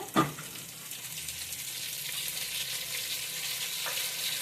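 Onion, carrot and coriander frying in a pan: a close, steady sizzle with a sharp clink of a utensil at the start, continuing evenly without voices.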